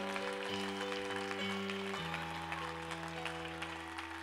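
Church congregation clapping and cheering over sustained organ or keyboard chords, a steady wash of applause that continues throughout.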